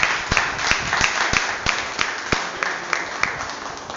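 A church congregation claps in a steady rhythm, the sharp claps evenly spaced and moderately loud over a murmur of the crowd.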